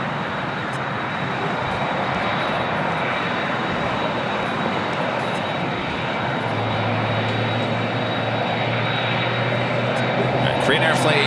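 A Korean Air airliner crossing a taxiway at LAX produces a loud, continuous jet roar, with a low engine hum joining partway through and voices talking over it.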